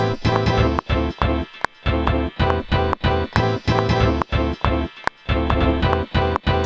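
A thick, layered synth melody plays loudly in rhythmic bursts with brief gaps between phrases, dense and full-bodied with no talking.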